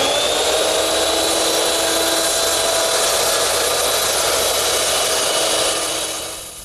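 A circular saw cuts wood for a Shaker step stool, guided by a gauge block and straight edge. It whines loud and steady for about six seconds, then fades as the cut ends.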